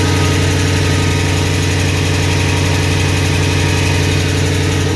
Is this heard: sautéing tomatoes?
no